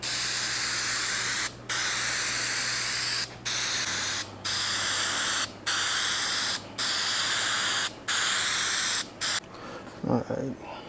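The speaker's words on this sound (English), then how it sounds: "I'm just going to put that on with some spray adhesive and then trim the edges." Spray adhesive hisses from an aerosol can onto felt for a woodworking shadow box, a series of loud, close bursts separated by brief pauses, followed by faint handling sounds at the end.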